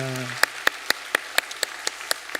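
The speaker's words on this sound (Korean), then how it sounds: "우리 박수로 환영하겠습니다." Congregation at a Sunday church service clapping to welcome newly registered members: a brief voice at the start, then sparse, evenly spaced claps that sound like only a few hands, moderately close.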